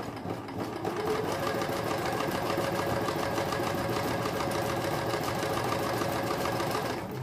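Sewing machine running a normal zigzag stitch, a steady, loud, fast mechanical whir with rapid even needle pulses, running continuously without pause.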